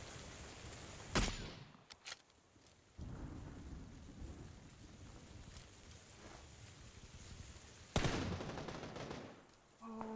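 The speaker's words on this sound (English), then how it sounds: "Oh, someone shot there as well." Gunfire in the PUBG video game: two sharp, loud bursts of shots ring out early and again later, separated by stretches of rumbling, rain-like ambient noise.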